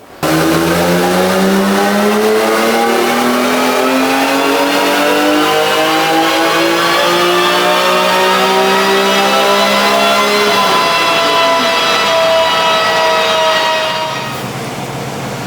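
A car is revved hard on a Mustang chassis dynamometer during a baseline pull, its engine note climbing steadily in pitch through a long, loud, continuous run before easing off near the end.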